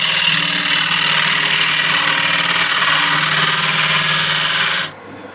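A wood lathe spins a workpiece being turned into a camera lens clock, giving a loud steady whirring drone with a constant motor hum that cuts off abruptly near the end.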